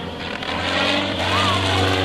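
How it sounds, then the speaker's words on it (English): A small airplane engine restarts and drones steadily and loudly at an air fair, its pitch rising slightly as it runs, with a faint voice underneath. "Fire it back up again. We'll hear the engine running."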